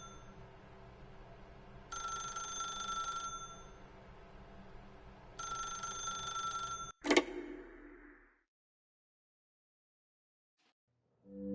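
An old-style telephone bell rings twice in The Stanley Parable, each ring a bright metallic trill over a faint low hum, followed by a sharp click as the receiver is lifted, then silence.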